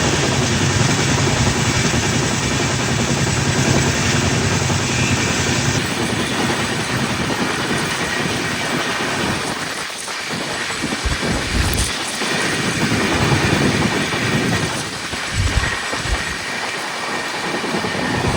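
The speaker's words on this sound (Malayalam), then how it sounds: "നമ്മളെ ഓവർടേക്ക് അടിക്കാൻ പോണ റണ്ണിങ് കൂടി നോക്കണേ" A special passenger train overtakes on the adjacent track, heard from inside a moving express train: a sustained loud rumble and rush with passing rattles and clatter, no voices.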